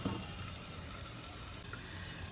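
Plantain shoot sautés in a covered pan, giving a steady, close, even sizzle that holds at the same level throughout with no voices.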